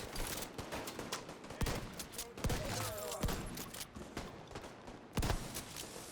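Gunfire in The Division 2 video game, a string of sharp shots and bursts at irregular spacing over steady game ambience, fairly distant and moderately quiet.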